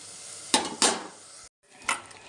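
Bitter gourd pieces hitting hot oil with onions in a pan for a curry, giving a few sharp clatters and bursts of sizzle, a brief silent gap, then another clatter over a steady frying hiss.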